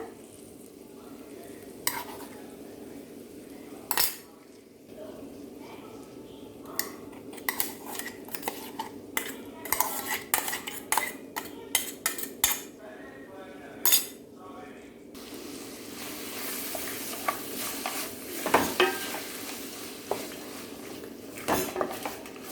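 Amla paste is stirred into a tempering in a pan, with a metal spoon scraping and clinking against the pan in irregular knocks over a faint sizzle, close and clear.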